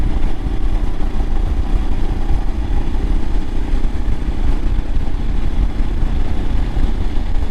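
A 2022 Royal Enfield Himalayan motorcycle engine on a test ride after a suspension upgrade, a loud steady low rumble with wind buffeting, continuous and close, with no talk.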